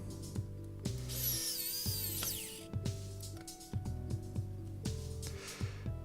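A screw is driven into a model locomotive chassis with a small screwdriver or power tool, producing close ratcheting clicks and whirring mechanical bursts with sharp taps between, some high-pitched squeaks early on.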